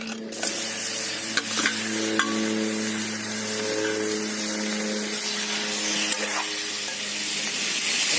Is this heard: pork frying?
yes